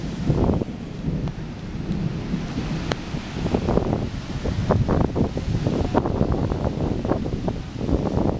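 Thunder rolls and rumbles through a thunderstorm in Puerto Plata, Dominican Republic, with steady rain and gusting wind buffeting the microphone, the rumbling low and continuous across the whole stretch.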